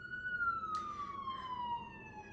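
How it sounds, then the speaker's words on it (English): A siren outside sounds a single long descending wail, faint and distant through a window against low background hum. "I love when I am talking about protection and a siren goes off."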